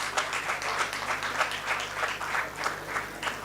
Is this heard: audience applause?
yes